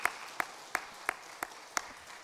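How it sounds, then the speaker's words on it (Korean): A church congregation at a Sunday morning service gives a few slow, sparse claps in blessing of a deacon's son's wedding. About six separate hand claps come at an even pace, fairly quiet, over a hushed room. "우리 다시 한 번 더 우리 축복하는 마음으로 박수 한번 하셨으면 좋겠어요"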